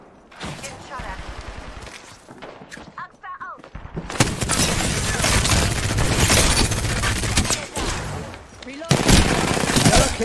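Gunfire in the video game Apex Legends, with bursts of automatic fire and impacts that grow loud and dense after a brief quieter stretch, continuing with heavy shots near the end, mixed with game sounds and some talk.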